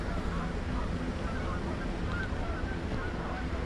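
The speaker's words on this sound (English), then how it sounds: "There's a lot of geese and a lot of seagulls." Geese honk faintly amid steady broadband ambience outdoors in snowy Central Park, with seagulls also about; the calls sit low under constant background wash rather than standing out.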